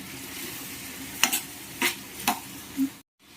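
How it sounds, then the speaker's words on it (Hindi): Onions sizzle softly in a pan over low heat, with a few scraping stirs of a spoon at intervals, then the sound cuts out. "सारा प्याज डालने के बाद अब हम इसे स्लो गैस पर भून लेंगे।"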